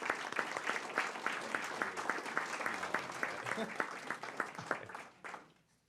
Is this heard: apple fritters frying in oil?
no